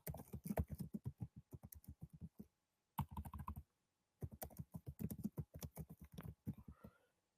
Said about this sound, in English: So we will type here, hi, thank you for making a purchase.